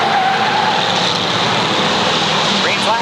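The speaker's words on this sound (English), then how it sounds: "Whoa, problems on the backstretch. Rio in the 69 and Rich Bianca make contact head on" Pure Stock race cars at the Waterford Speedbowl in 1992 make contact head on along the backstretch, a loud, dense roar of engines with tire squeal close by.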